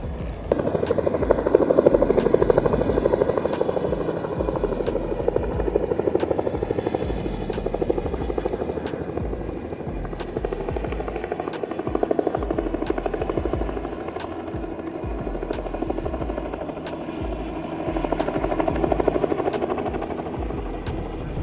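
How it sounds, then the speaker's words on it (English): A helicopter hovers overhead while lifting rooftop air handler units at a new warehouse facility, its rotor thudding in a constant rapid beat that swells and eases in loudness over a long stretch, with no talking. "So the reason we've got a helicopter out here, obviously because if we used a crane"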